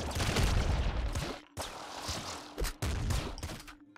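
Plasma rifle fire in the video game Nuclear Throne, dense rapid bursts of synthetic blasts and impacts, loud and busy, broken by a couple of brief gaps.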